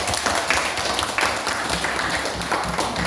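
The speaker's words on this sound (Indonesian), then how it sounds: "kita tepuk tangan untuk kelompok 1" A classroom group claps together for about three seconds, a dense, even patter of hands at moderate volume with no talking over it.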